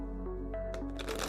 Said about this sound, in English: You can shuffle the way you like.